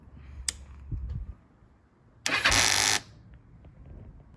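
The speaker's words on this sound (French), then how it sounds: "Donc là, démarration du moteur." An electric starter turns over a motorcycle engine during an oil-change job, with a short loud cranking burst midway that stops after about a second. A few soft clicks and knocks come before it.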